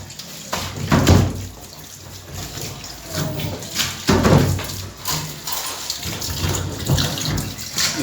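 Warm tap water running and splashing inside a lassi churning pot as it is washed, a steady rushing pour with louder sloshing surges every few seconds, close and continuous.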